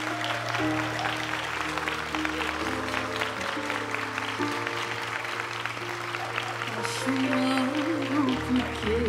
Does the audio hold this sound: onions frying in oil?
no